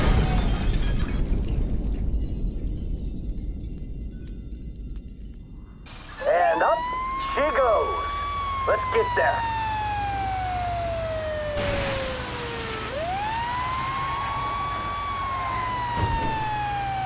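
Emergency vehicle sirens in GTA 5 rise and fall in long wailing sweeps, loud and near, after a crash of impacts, with low rumbling beneath.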